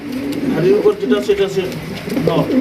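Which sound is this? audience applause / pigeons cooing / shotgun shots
pigeons cooing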